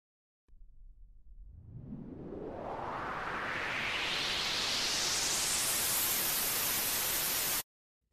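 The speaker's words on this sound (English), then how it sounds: "Noise riser is the one, and I drag it into the project." A noise riser effect from BandLab's sound library: white noise that starts as a low rumble and sweeps steadily brighter and louder for about seven seconds, then cuts off abruptly into silence.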